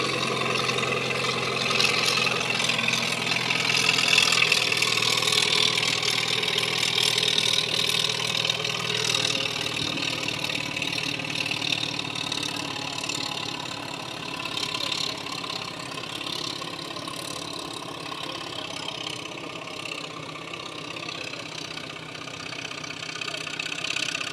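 A vintage tractor from roughly 1948 to 1952 with a 55 Continental 4-cylinder engine idles at a barnyard tractor pull, giving a steady, continuous mid-pitched rumble with a faint knock throughout.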